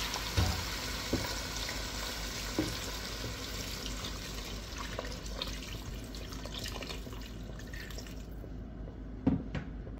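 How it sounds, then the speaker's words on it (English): Water is poured over chicken pieces in a curry pot, making a continuous wet splashing and trickling with a few louder drips and clunks, close-up and steady. "Add some water till it covers all of the chicken."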